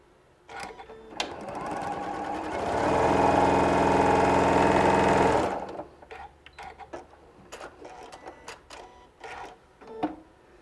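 A sewing machine stitches a straight quarter-inch quilt seam, one loud steady mechanical whirr lasting about three seconds, framed by softer clicks, handling of fabric and small knocks before and after.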